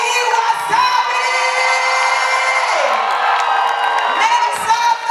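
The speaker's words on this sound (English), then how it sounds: "Join me with a resounding round of applause to bring up on stage the one and the only Layi Wasabi!" Audience at a university finance conference in Lagos raising loud, sustained whoops and cheers with crowd shouting, continuous and near throughout.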